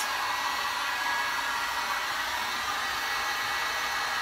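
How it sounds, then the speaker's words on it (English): A hot air gun runs at a steady, even whoosh for the whole stretch, a constant airy roar with no change in pitch or level and no voices. "I'm going to use your hot gun because this would be really quick, and it's not quite as noisy."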